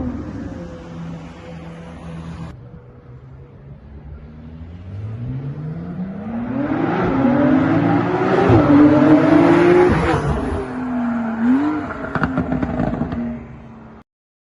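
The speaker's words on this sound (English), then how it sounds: "we're going to show the McLaren first" A McLaren sports car engine revs and accelerates, rising through a loud swelling roar with climbing pitch sweeps, then easing back and dropping off, with faint tire scraping noises.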